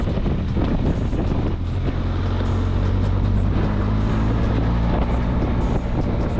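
Benelli TRK 502 X motorcycle riding off-road in second gear around 25 km/h on a motocross track, a loud continuous engine drone with heavy wind buffeting.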